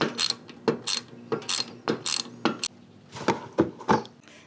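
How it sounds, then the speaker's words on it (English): A 5/8 wrench works the oil drain plug on a 2024-2025 Harley-Davidson Road Glide or Street Glide, giving a close series of sharp metallic ratchet clicks in uneven bursts with short pauses between them. "we're just gonna get a 5/8 wrench, pop that, and let all the oil drain out"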